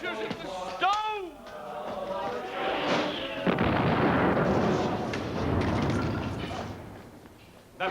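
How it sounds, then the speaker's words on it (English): Gunfire in an audio drama: an abrupt blast opens a long, rolling rumble of heavy shots that swells and fades over several seconds, with voices speaking before it. "I think they're firing at us, Captain."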